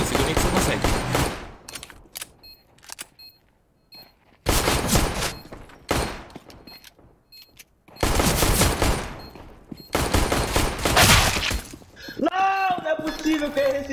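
Rapid bursts of automatic video game gunfire crackle in loud volleys separated by short gaps, followed by a ringing, warbling electronic tone.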